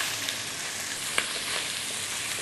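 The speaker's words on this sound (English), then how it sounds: "we're going to put all this seafood in at the same time with the paste" Seafood hits a very hot pan with curry paste and fries in a steady, dense sizzle that carries on without a break, with a faint clink partway through.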